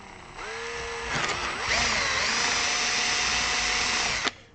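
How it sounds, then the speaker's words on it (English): A power drill bores a new hole in an Epiphone Les Paul guitar, a steady whining motor that rises in pitch as it bites, running loud and close before stopping abruptly. "So here we are drilling a new hole."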